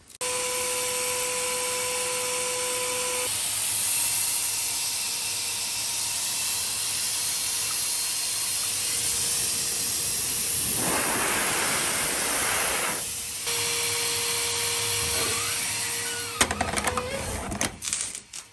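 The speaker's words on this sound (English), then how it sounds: "grab this hose, turn it on, and we're going to blow out from there" Compressed air from a hose hisses steadily into a motorized bike's fuel tank to blow out fumes, a loud continuous rush with a tonal whine that briefly shifts and surges before sputtering off near the end.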